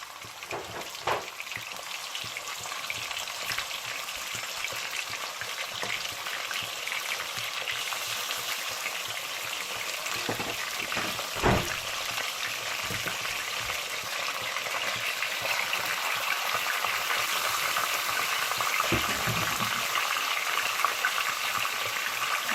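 Meat chops sizzle and fry in a red spiced masala in a pan, a steady crackling hiss for the whole stretch with occasional stirring clatter, close and fairly loud, with no talking.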